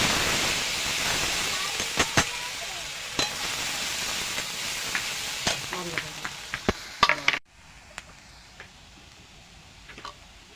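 Onion and garlic paste sizzles and hisses loudly in hot oil for a fish curry, with sharp spattering pops and clinks over the frying; the sizzle drops abruptly to a quieter simmer near the end.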